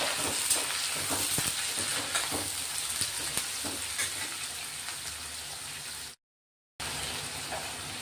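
Chopped onions sizzling in a pan with salt and asafoetida, a steady crackling hiss with scattered pops, close and even, broken once by a short silent cut before the frying continues.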